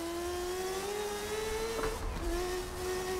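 A race car engine holds a steady high rev with a slight pitch rise while drifting on cold tires in a racing game, played on a Logitech G920 wheel; the tone briefly breaks and then resumes, loud and continuous.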